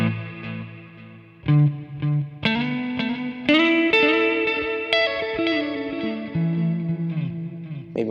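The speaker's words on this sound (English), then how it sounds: "So that's a analog delay." Electric guitar notes and chords ring out through a Lekato TANK-G modeler's analog delay with a long delay time, each trailed by repeating echoes that pile up and fade, with no voice over the playing.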